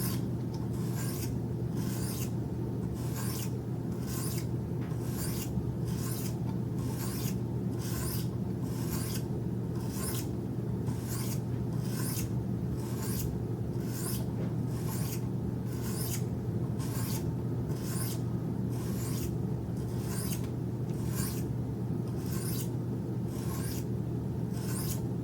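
Sharpening stones on a Wicked Edge guided sharpener scrape along a steel knife blade in a steady series of about two dozen evenly spaced raspy strokes, close and unaccompanied by talk.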